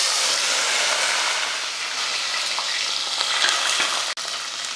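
Small onions and garlic cloves fry in hot oil, making a continuous loud sizzle and hiss, close up and steady with a brief dip near the end.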